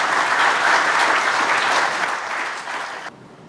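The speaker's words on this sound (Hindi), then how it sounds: "बहुत सी तालियां बजाकर।" An audience in a hall in Multan applauds at a police ceremony honouring martyrs. The clapping is dense and loud and fills the room, then fades and cuts off just before the end.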